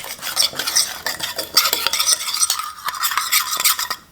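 Seasoned lamb chops stirred with olive oil in a bowl or pan, brisk wet scraping and clinking of a utensil in quick repeated strokes, close and fairly loud, no voices.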